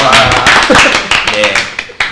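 Hands clap in a loose burst during a small Korean talk show about opening a café, the sharp slaps close and overlapping while voices and laughter carry on throughout.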